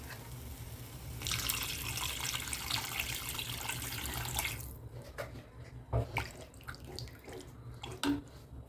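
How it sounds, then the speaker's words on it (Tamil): Water runs steadily from about 1 to 4.5 seconds into a cooking pan holding spiced masala for a wheat idiyappam dish. It sounds close and continuous, then cuts off and leaves a few faint clinks and drips. "கொஞ்சமாக தண்ணி ஊற்றிடலாம்"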